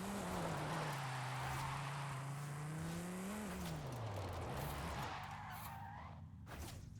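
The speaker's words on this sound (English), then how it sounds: "Don't you know I'm in a race car here?" Race car in a racing video game, a C4 Corvette build, drones with a steady engine note that rises and dips as it revs, tires hissing and scrubbing underneath, fairly loud and continuous with no talk.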